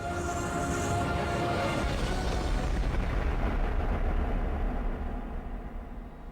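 A supernova explosion sound effect for a documentary: a loud, dense, continuous roaring rumble with deep booming texture that holds steady, then thins and fades slightly toward the end.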